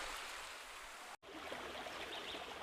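Water flowing at the Salto Angel waterfall, a continuous hissing rush of falling water, steady and moderately distant, with a brief dropout near the middle.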